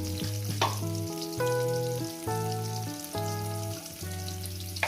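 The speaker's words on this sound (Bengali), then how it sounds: "আলুটা এমনইভাবে ভাজবে ভাজার মধ্যে যাতে সিদ্ধ হয়ে যায় ঠিক কাঁচা কাঁচা না থাকে" Potatoes frying with a little turmeric in a pan, a soft continuous sizzle with occasional stirring knocks sitting beneath louder sustained musical tones.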